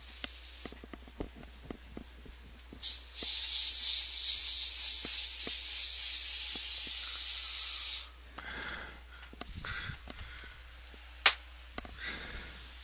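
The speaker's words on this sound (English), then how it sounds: "Just sprayed down the area with some outdoor, some Raid." Raid insecticide sprays outdoors in one loud, continuous hiss lasting about five seconds, with scattered faint clicks and rustles before and after it.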